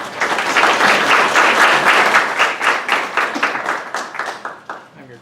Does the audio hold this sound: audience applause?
yes